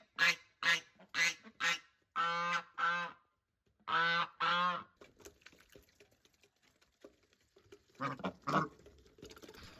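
Geese and ducks on a rural Chinese farm honk in a run of about eight loud, close calls, followed by quieter scattered rustling and a final pair of honks.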